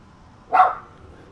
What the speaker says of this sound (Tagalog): Ingay ng aso namin, nagagalit to.